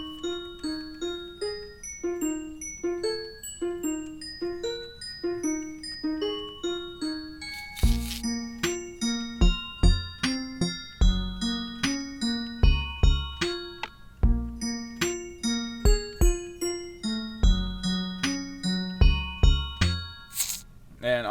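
Minecraft note blocks play Cradles by Suburban, a rhythmic chain of plinking tones that begins as a sparse repeating pattern and fills out after several seconds with added bass and percussive clicks, steady and prominent throughout.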